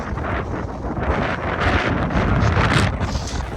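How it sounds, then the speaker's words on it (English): Strong wind roars across the exposed summit of Pen Y Fan in the Brecon Beacons, Wales, buffeting the microphone in a loud, continuous rush with gusty swells. "It's very windy."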